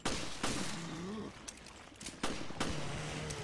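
Gunshots in the survival horror game Resident Evil Revelations: a few sharp separate shots, roughly four, spaced across the moment over a dense ambient game backdrop, with a voice briefly audible.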